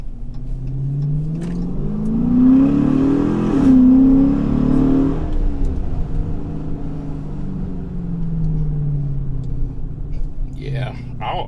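A Chrysler 300 with a 5.7 HEMI V8 and an 87mm ported throttle body accelerates on a drive, its deep engine note rising in pitch and then settling into a steady rumble inside the cabin.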